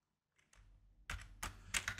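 A few keystrokes tapped on a computer keyboard with an English layout, quiet and close, in short clustered bursts with no talk.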